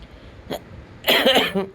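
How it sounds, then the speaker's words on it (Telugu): Two short, harsh coughs, a quick one followed by a louder burst, sound close by with no talking. "దగ్గు వస్తుందండి"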